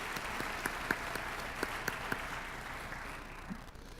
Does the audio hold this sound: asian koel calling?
no